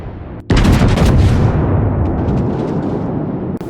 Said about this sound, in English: So, I'm gonna skip ahead to the next salvo I fire.